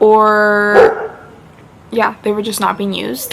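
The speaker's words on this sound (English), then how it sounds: "sorry about my dogs" Indoor dogs let out a short, close bark and whine, while someone talks before and after.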